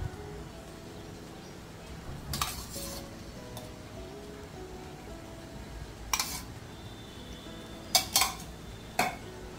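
A metal spoon stirs dal, rice and ghee in a pot for khichdi, giving a few sharp clinks and scrapes against the pot's side, sparse and fairly quiet over a low background.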